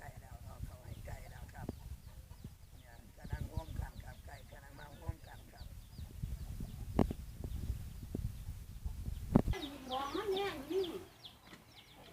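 Chickens cluck and chatter while being fed, with scattered pecks and scuffles under frequent nearby talk and a brief higher-pitched squawk near the end.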